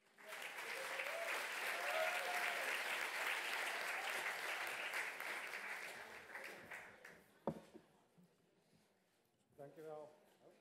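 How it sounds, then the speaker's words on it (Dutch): Sustained audience clapping at a mini-lecture on decolonising agriculture and food, loud and dense for about six seconds before thinning out, with a sharp knock and a speaker's voice starting near the end. "Mag ik alsjeblieft een applaus voor Max de Ploeg?"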